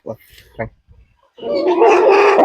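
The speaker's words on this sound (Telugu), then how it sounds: "ఇదిగోండి మీ కోడిపుంజు మీకు ఇస్తున్నాను" A rooster given as a lucky-draw prize calls out loudly and harshly near the microphone for about a second, just after brief speech.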